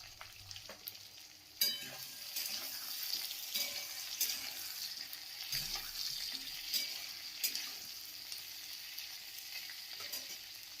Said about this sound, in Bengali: আলুটা আমি 1 মিনিট পেঁয়াজ টমেটোর সাথে নাড়াচাড়া করে নিয়েছি।